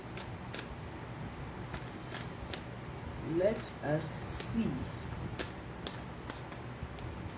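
Tarot cards are riffled and shuffled in a brief flurry of papery snaps, while a quiet voice speaks over a steady background hiss.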